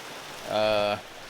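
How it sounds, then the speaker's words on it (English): Steady rain hissing in the background, with a brief voiced sound rising over it midway. "It's raining really bad right now."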